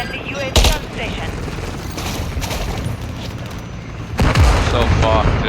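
Dense gunfire in Modern Warfare 3 on the Rust map, loud continuous automatic bursts with heavy booms near the start and end, game voices mixed in.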